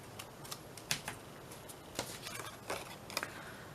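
Scissors snip around paper butterfly cutouts in a series of sharp, close, irregular clicks, fairly quiet with brief pauses between cuts.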